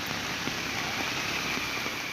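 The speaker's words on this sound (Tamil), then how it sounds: "ராஜபாளையத்தில் மாலை முதல் இரவு வரை 3 மணி நேரம் மழை கொட்டி தீர்த்தது." Heavy rain pouring down steadily in Rajapalayam, Tamil Nadu, during an evening downpour, a dense continuous hiss with faint drips and distant traffic rumble underneath.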